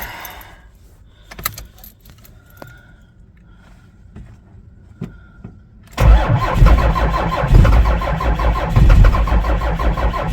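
A cold diesel with no glow plugs grinds through a long crank. Keys jingle and clicks sound first over quiet background, then the engine catches with a sudden loud, rough rumble that runs steadily to the end.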